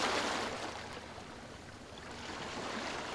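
Soft ambient waves lap and wash steadily in a Foundry VTT tabletop scene, a quiet continuous hiss of water that swells slightly at the start and end, with no one talking.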